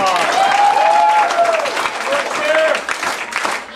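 Audience applause at a martial arts belt ceremony at a family martial arts center in Mount Dora, a steady burst of many hands clapping with a voice talking over it throughout.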